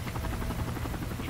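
Helicopter in the video game Call of Duty: Modern Warfare 3, its rotor thumping in a rapid steady beat with a dense low engine roar, continuous and close, with no talk over it.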